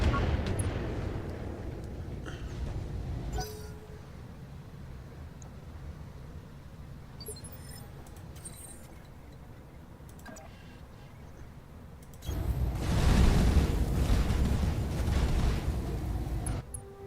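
Mech weapons fire and explosions in the Battletech video game: a steady rumbling barrage with muffled booms, easing into a quieter stretch before a loud, dense burst of blasts near the end, with no talk.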